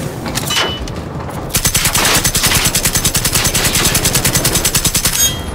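Rapid machine gun fire in Generation Zero, a long loud burst of evenly spaced shots that starts after a brief pause and hammers on steadily to the end.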